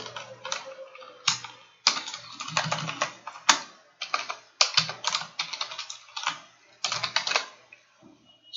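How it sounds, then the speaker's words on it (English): Rapid bursts of keystrokes on a computer keyboard, close and crisp, arrive in uneven clusters with short pauses between them and no talking. "whenever I start typing in this input element, the same text must be displayed beside of it"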